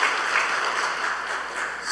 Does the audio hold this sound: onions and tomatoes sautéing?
no